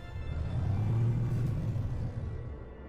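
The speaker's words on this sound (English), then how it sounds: "There's a massive storm going on." Massive storm on a planet in No Man's Sky, a deep, heavy rumble swelling and then fading over a few seconds, loud and close with no voices.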